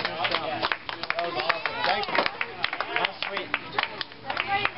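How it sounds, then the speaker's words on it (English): Scattered clapping from a small group after a skateboard demo at a library loading dock, sharp uneven claps mixed with lively chatter and kids' voices. "let's give them one more round of applause"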